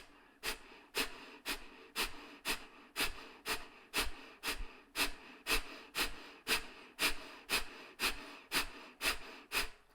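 Short, forceful yoga exhalations pushed out through the nose, about twenty sharp rhythmic puffs in steady succession, close and clear with no talking.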